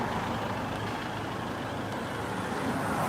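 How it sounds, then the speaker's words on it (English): A regular bus passing through the village of Staraya Ladoga, with a steady, fairly close engine rumble and road noise holding throughout and no voices. "You see, even here they have the buses"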